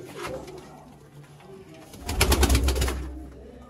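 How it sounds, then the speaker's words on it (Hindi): Old Sialkoti pigeons cooing close by, a soft coo early on, then a louder run of throaty, rolling coos that pulse for about a second and a half. "सियालकोटी पुराने 35 वाले कबूतर"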